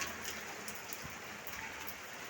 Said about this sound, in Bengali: এখনো বৃষ্টি পড়ে যাচ্ছে